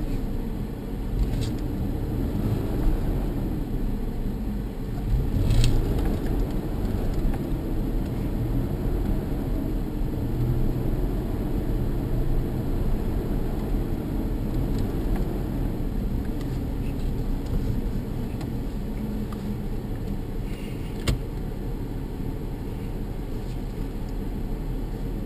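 A car drives along a road under steady acceleration, its engine and tire rumble forming a continuous low drone heard from inside the cabin, with no clear speech.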